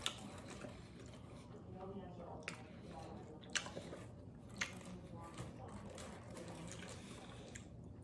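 Wet, squishy chewing of Domino's chicken taco pizza and boneless wings, steady close-up mouth sounds with occasional sharper bites and smacks, quiet and continuous over eight seconds.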